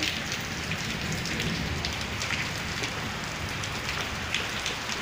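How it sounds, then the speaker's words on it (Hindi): Dense pattering of hard pellets strikes surfaces steadily and fairly close, a continuous hiss of hail falling. "ओले पड़ रहे हैं"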